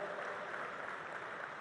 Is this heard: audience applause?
yes